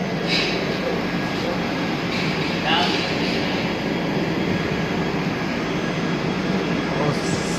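Triveni Express pulling out of Pilibhit station, a steady broadband rumble of rolling train noise running throughout at moderate level, with faint voices and station sounds mixed in.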